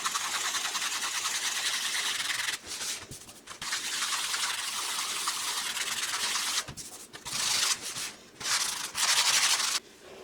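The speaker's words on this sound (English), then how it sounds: "Okay, I got a little sanding block here." A hand-held sanding block scrubbed over a table surface, producing a close, continuous hiss of back-and-forth strokes broken by several brief pauses.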